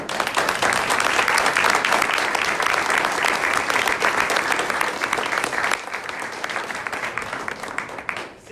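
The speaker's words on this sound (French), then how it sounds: "Applaudissez." Loud, sustained applause from a large audience at a campaign closing speech, steady clapping throughout that eases slightly toward the end.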